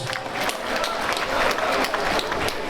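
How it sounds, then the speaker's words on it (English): Dense, steady applause from a boxing event crowd after a fight that went the full distance, loud and continuous for the whole stretch, with no voices over it. "Let's give them a massive round of applause."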